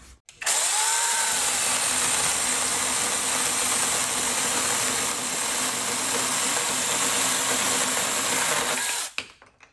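A Wosai brushless 20V mini chainsaw powered by a Makita battery cuts steadily, a loud continuous high-pitched motor whine that starts abruptly, holds nearly constant for about nine seconds with a slight dip midway, then stops sharply.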